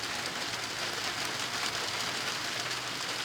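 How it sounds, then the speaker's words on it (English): Steady rain patters on a surface, a dense even hiss with no voices. "Even right now, you can hear the rain."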